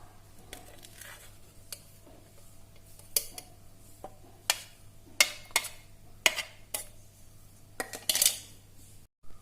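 Blended onion is pushed through a metal strainer into a bowl, giving irregular, sharp metallic taps and scrapes spaced a second or so apart over a low, steady background hum, close up and without speech.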